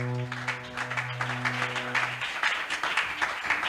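A church congregation applauds for the Lord during a Sunday worship service, dense steady clapping filling the room, with a sustained music chord underneath that fades out partway through.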